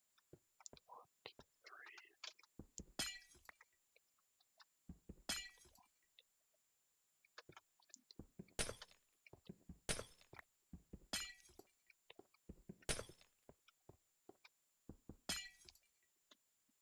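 Glass blocks shattering in Minecraft, a series of sharp crisp breaking bursts in irregular clusters with short pauses between, fairly loud and alone.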